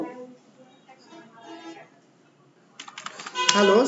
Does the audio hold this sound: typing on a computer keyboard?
yes